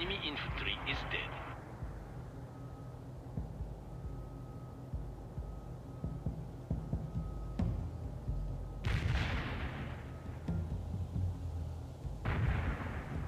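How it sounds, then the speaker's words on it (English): Mortar fire in the World in Conflict video game, several heavy booming shots spaced apart in a mid-distance battle, with radio-style voice chatter over low rumble. "Molotov firing mortars."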